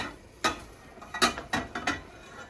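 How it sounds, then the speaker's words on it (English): Pot lid being lifted off a pan of boiled evaporated milk in a kitchen, a few short close metallic clinks and scrapes spaced irregularly over a quiet background. "I'm opening the lid now."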